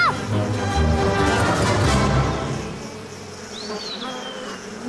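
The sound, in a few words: bee buzzing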